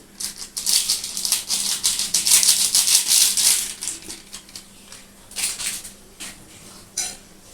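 A spoon scrapes and clatters against a metal pot in uneven bursts of stirring garam masala into banana-flower kofta curry, close and fairly loud, pausing between strokes.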